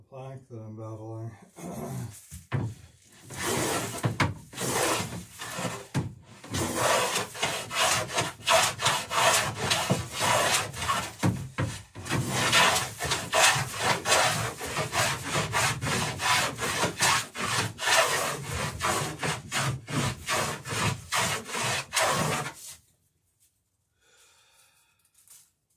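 A hand tool bevels the knuckles of a wooden frame on an Alpha Beachcomber dory, making a long run of rhythmic rasping strokes that are close and steady, then stopping near the end.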